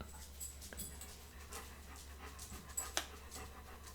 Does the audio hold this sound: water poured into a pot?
no